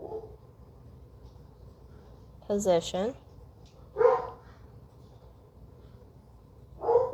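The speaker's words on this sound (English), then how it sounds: "my dogs are in the background" Dogs bark a few times in the background, short yipping bursts spaced several seconds apart, sounding fairly near, while someone talks quietly between them.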